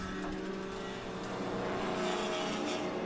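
Race cars roar past at speed during the 2014 O'Reilly Auto Parts Grand Prix, a loud, continuous engine drone with shifting pitch as the cars jockey for position, close and steady throughout.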